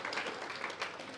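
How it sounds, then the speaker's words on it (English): Audience applause at a Christian business network talk, a brief burst of steady clapping from a crowd, moderately loud and continuous. "Darren deserves a round of applause for keeping us on time this morning"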